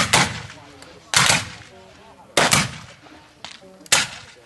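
Civil War reenactors fire muskets in separate volleys at a First Bull Run reenactment: four loud, sharp blasts spaced about a second apart, each ringing briefly into the open air, with shouted commands between shots.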